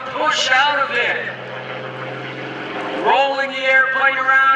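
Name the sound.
aerobatic airplane engine during torque roll at airshow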